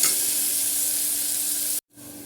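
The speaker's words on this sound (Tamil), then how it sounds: "வெங்காயம் நல்லா வதங்கிடுச்சு." Onions sautéing in a pan for chana kurma give a loud, steady sizzle and crackle that runs continuously, then cuts out abruptly before resuming more faintly.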